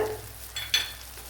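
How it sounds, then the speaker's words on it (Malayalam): Chopped tomatoes with papaya cutlet mixture sautéing in a pan, a low steady sizzle with a couple of quick spatula scrapes and clinks in the middle. "തക്കാളിപ്പഴവും കൂടെ കട്ട് ചെയ്ത് ചേർത്ത് കൊടുത്തിട്ടുണ്ട്. ഇനി ഇത് നല്ലപോലെ ഒന്ന് വഴണ്ട് വരണം"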